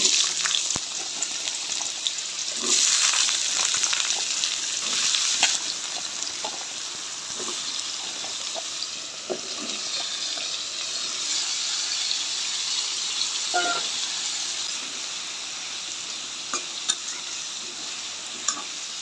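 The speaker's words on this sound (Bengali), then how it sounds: "তেলটা গরম হয়ে গেছে, এবার সবজিগুলো ভেজে নেব। একসাথে মূলা, আলু, কারকল এগুলো একসাথে ভেজে নেব।" Radish, potato and other vegetables frying together in hot oil, a steady loud sizzle with repeated stirring scrapes and occasional bursts of crackle, no voices.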